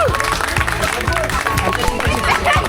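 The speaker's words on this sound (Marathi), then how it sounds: "त्यासाठी एक टाळ्या जोरात" An audience claps together in a dense, steady burst that lasts the whole moment, with voices talking over the applause.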